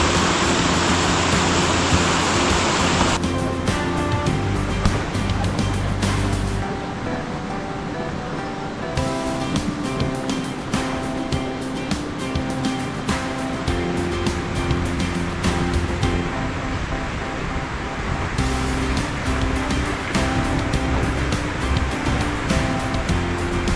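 Water pours steadily at Ayn Hamran spring waterfall in Salalah, Dhofar, a continuous broadband rush heard up close and alone, with abrupt shifts in loudness and texture.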